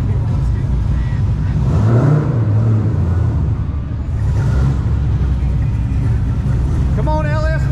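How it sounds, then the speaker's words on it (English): An LS1-powered Chevrolet Camaro roars through a burnout at a Formula Drift event at Road Atlanta, a loud, sustained low engine drone with rising revs, while voices talk nearby. "A little burnout."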